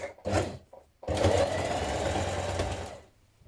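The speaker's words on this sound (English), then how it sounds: "to a smallish zigzag stitch and bring the stitches closer together. And then that's going to help stop these ends from fraying out." A home sewing machine runs a small, tight zigzag stitch across a dress hem, with a brief burst of stitching, a short pause, then a longer steady run that slows and stops.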